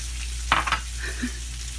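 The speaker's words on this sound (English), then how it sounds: "All right, butter is melting. Toss in the mushrooms." Mushrooms frying in melted butter in a pan, a steady close sizzle with a few soft stirring clatters.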